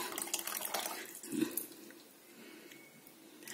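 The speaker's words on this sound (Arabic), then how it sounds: "هاي هلا رح احط مية البندورة" Tomato water poured into a cooking pot of simmering meat, a soft liquid trickle and splash rising briefly to a burst then settling into a quiet flow, faint and close, without talk.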